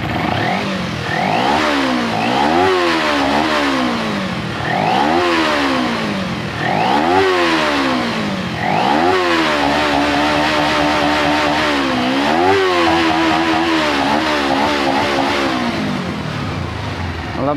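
Motorcycle engine with a multi-cylinder carburetor setup, revved repeatedly in close, loud bursts that rise and fall in a rough rhythm, with a clattering mechanical edge between throttle blips.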